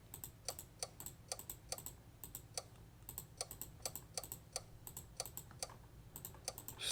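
Rapid bursts of computer clicks while upgrade buttons are control-clicked one after another in an idle factory game, about two dozen crisp, evenly spaced taps over a low steady hum, with no talking.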